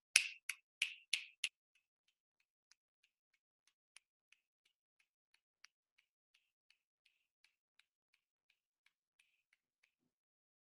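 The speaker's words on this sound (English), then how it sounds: "I want everybody to snap 30 times right now" Several sharp finger snaps ring out close and loud in quick succession at the start, then give way to a long run of faint, scattered clicks as people keep snapping at an uneven pace.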